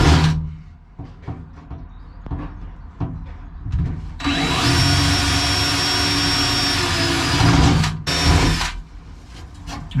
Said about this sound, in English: So that's all the pilot holes done